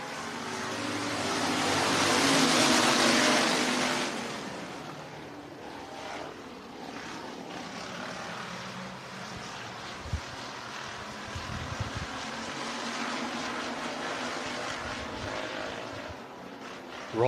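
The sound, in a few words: race cars going green flag racing at speedway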